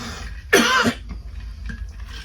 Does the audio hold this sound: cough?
yes